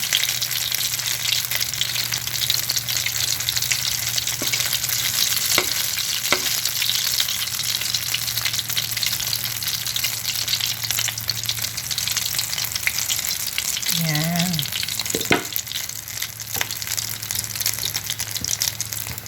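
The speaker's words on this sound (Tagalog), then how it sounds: "Piprito nyo ganun." Corned beef torta patties sizzle steadily in hot oil, a loud constant crackling hiss with a few brief clinks and a short murmur partway through.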